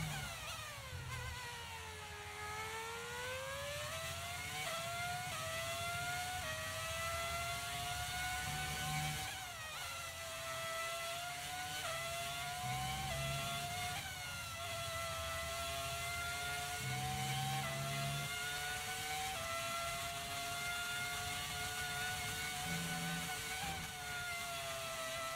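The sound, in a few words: Mercedes V12 engine of an F1 car in video game F1 23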